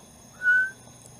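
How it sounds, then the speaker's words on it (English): A single clear whistle sounds in a forest at a campsite: one short, steady tone lasting about a third of a second, standing out alone against a faint, quiet background. "You hear that whistle? It's clear as day."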